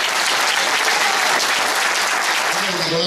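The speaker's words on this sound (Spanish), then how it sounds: "Un aplauso, macho." Loud, dense crowd applause at the finish of the Travesera Integral Picos de Europa mountain race, steady clapping and cheering close by for a finishing runner, with voices faintly mixed into the noise.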